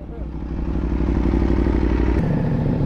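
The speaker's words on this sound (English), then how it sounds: "Nag-start na yung motor ni Gorgy." A motorcycle engine runs loud and close with a rough, clattering idle that changes pitch about two seconds in, as if settling after starting.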